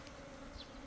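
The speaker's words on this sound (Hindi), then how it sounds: "मधुमक्खी के इस झुंड को" Swarm of honey bees caught near apple blossoms, a steady low droning buzz from many insects, faint and continuous for under a second.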